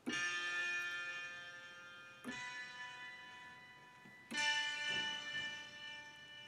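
Three sustained Steinway grand piano plugin chords run through Positive Grid Bias FX guitar effects, struck a couple of seconds apart, each ringing out with a bright, shimmering, bell-like tone and no voices.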